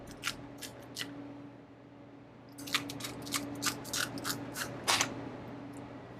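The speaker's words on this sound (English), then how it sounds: "And then just take a pair of scissors." Scissors snip through a crab shell: a quiet run of crisp crunching cuts in two bursts, with a short pause between them.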